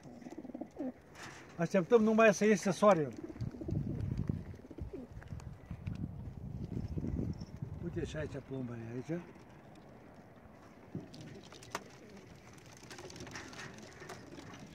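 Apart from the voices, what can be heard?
racing pigeons cooing before release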